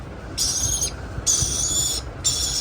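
Three loud, harsh calls from a hungry pet lorikeet repeat at a steady pace, each lasting about half a second, with a low background rumble underneath.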